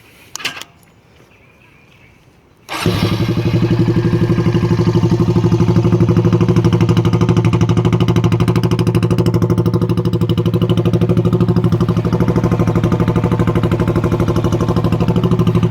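Honda Rancher 350 ATV engine catching after a couple of seconds of near silence with a brief clunk, then idling loudly and steadily up close with a rapid, even putter.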